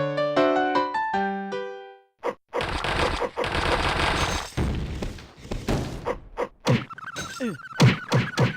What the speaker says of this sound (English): So we'll just take out our throwing axes.